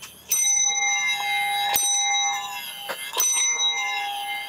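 Handheld bell rung indoors, several bright, clear metallic strikes with long ringing overtones, loud and close, sounding in three separate clusters.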